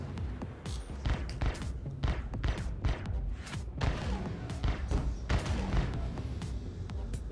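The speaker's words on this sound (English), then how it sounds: "shotgun blast to the face" Shotgun blasts and laser cannon fire from medium fighter ships in the Star Citizen space game, a dense, steady barrage of rapid thuds and sharp impacts running continuously throughout.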